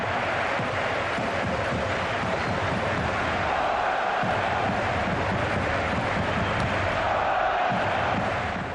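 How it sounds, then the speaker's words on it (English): A large stadium football crowd roars and chants continuously in the video game FIFA 15, a dense wash of many voices with no pauses. "just that crowd noise, those chants, that's got to be nerve-wracking"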